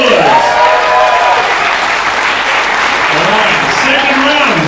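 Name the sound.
audience applause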